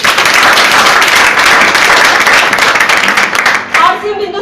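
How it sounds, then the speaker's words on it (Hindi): Loud, dense applause from a crowd at an RCM business marketing meeting, sustained clapping filling the room for several seconds before thinning near the end. "अभी अमीर बनने के लिए अमीरों वाली तालियां सर जोरदार हो जाएंगी।"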